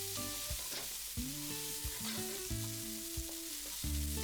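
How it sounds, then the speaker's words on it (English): Chopped tomato frying with okra in a pan: a steady sizzle beneath repeated scraping and clinking as the mixture is stirred, close and moderately loud, without speech. "Then add 1 chopped tomato and fry until the tomatoes are nice and soft."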